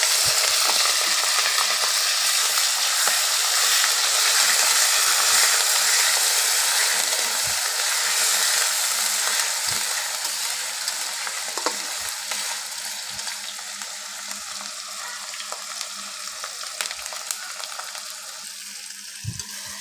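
Ground onion paste and chopped tomato fry in oil as they are stirred, a loud bright sizzle that slowly fades over time, broken by sharp clinks and scrapes of a spoon against the pan, with no talking.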